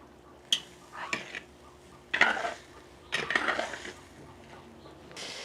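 A utensil clanks and scrapes against a pot while beans are stirred, giving several distinct metallic knocks and short scraping bursts spaced irregularly, quiet and close with no speech.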